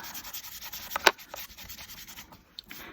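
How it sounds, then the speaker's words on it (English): A paper tag is rubbed firmly to remove excess gold mica powder, giving a close, steady scrubbing and brushing with one louder stroke partway through, under no talk. "Now I'm being pretty generous here with my rubbing to get this gold off of here"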